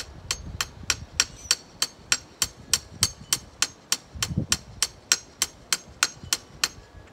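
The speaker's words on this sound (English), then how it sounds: "Speed it up for the actual video, so you don't have to see me hammer" Steady metallic hammer strikes on a grounding rod for a Westinghouse WGen3600v generator ring out in an even, rapid rhythm, about three per second, close and sharp with little else around.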